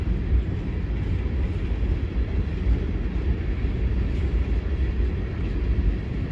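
A freight train rolls past on the Pittsburgh line, a loud, continuous low rumble of wheels and cars that stays steady and close from start to finish.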